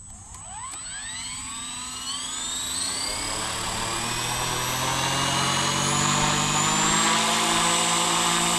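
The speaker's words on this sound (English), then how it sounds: "we'll whiz her up and give it a rip around" A Blade 250CFX RC helicopter fitted with a Microheli three-blade head spools up, its whine rising in pitch over the first few seconds, then settles into a steady, loud, close rotor hum with no talking.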